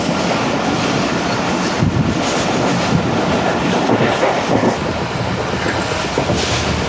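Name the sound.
Pak Business Express train running at high speed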